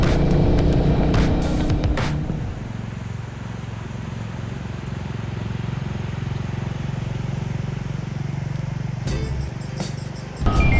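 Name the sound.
Royal Enfield Bullet 350 motorcycle being ridden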